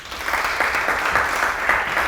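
An audience at a sales masterclass event applauds, a dense, steady round of clapping from many hands that holds at an even level throughout.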